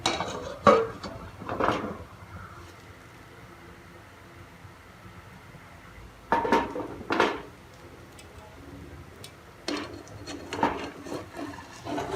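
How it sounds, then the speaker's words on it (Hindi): A plate set down onto a frying pan holding a Spanish omelette with a cheese layer, giving a few close clinks and scrapes in short clusters, separated by quiet stretches with a faint steady hum. "एक और प्लेट रखेंगे फ्राइंग पैन के ऊपर और उसकी मदद से हम इसे फ्लिप कर लेंगे।"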